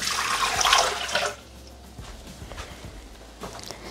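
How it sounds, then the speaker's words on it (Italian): Water pours from a jug into the mixing bowl of a Thermomix (Bimby) kitchen appliance as the first step of a potato recipe, a bright splashing stream for about a second, followed by light clinks and handling noises. "Iniziamo la ricetta mettendo all'interno del boccale l'acqua."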